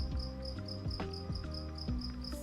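A single cricket indoors chirps in a steady pulsing trill, quiet but clear, its repeated high notes sitting over a low musical background.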